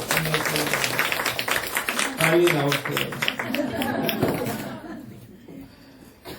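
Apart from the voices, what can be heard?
congregation applause of encouragement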